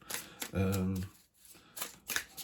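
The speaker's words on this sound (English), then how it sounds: "it's not very interesting watching people shuffle cards" Card shuffling with quick riffling bursts and a louder flutter near the start, close and moderately loud, no speech.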